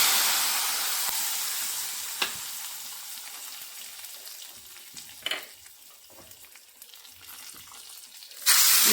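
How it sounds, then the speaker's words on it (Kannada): Hot tempering poured onto pineapple menskai sizzles in a steady hiss that slowly fades, with a few small crackles and stirring sounds, then a fresh burst of sizzle near the end. "ಈಗ ಈ ಮೆಣಸ್ಕಾಯಿ ಏನಿದೆ ಇದಕ್ಕೆ ಈ ಒಗ್ಗರಣೆಯನ್ನು ಹಾಕ್ತಾ ಇದ್ದೀನಿ."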